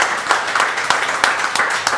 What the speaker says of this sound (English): please give a round of applause to Warehouse Liquors, Zach Ryhier, Gene Shar